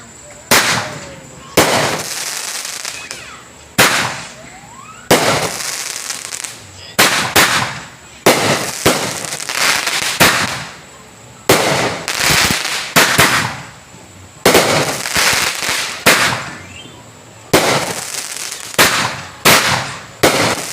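Pyro Demon Kick Ass 12-shot firework cake firing outdoors, a string of loud sharp bursts spaced unevenly over about twenty seconds, each crack ringing out with crackling tails, with voices in the background.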